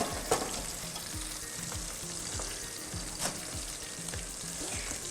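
Chopped green chillies hit sizzling tempering oil for karhi pakora, producing a steady crackling fry with a few sharp pops, heard under rhythmic background music.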